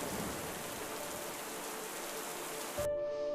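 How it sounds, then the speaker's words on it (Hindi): Steady rain dripping through the broken roof of a small mud-and-dung-walled hut, a dense, even hiss of drops that stops abruptly near the end and gives way to a faint tone. "जिसकी टूटी हुई छत बारिश में टपकती थी"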